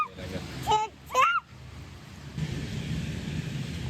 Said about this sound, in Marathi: इतका छान पाऊस पडतोच आहे बाहेर